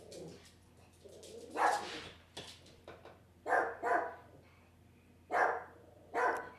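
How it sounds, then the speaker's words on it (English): A dog barks somewhat distantly and faintly in a room, with a few scattered single barks and pairs spread across the clip over low background noise. "You'll have to excuse the dog."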